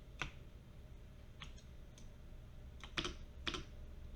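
Keyboard and mouse clicks while 3D-modelling an amulet, a few sparse sharp clicks spread over a quiet room background, with no speech.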